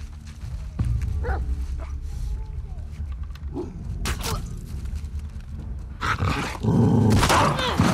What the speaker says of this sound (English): The dog got me!